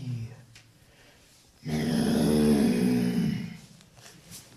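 A human voice imitates a lion roaring during a spoken children's story, a loud, rough, growling roar that swells and holds for about two seconds before fading.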